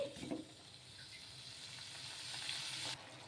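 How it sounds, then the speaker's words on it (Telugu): Tomato pieces for chutney soften in a pan over a medium flame, giving a faint, steady sizzle and hiss throughout with a few soft stirring touches and no talking. "బాగా మీడియం ఫ్లేమ్లో పెట్టేసుకొని ఈ టమోటా ముక్కలు బాగా మెత్తబడే వరకు మగ్గించుకోవాలి"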